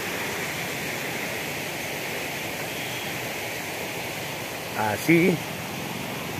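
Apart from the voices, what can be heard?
water flowing in a creek after rain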